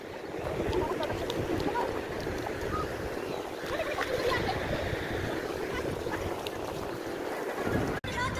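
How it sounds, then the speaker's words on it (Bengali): Sea waves rolling onto New Digha beach in the evening, a steady broadband wash of surf with wind rumble on the microphone, continuous and fairly loud throughout, with faint voices in the background. "এই যে সমুদ্র আছে সামনে।"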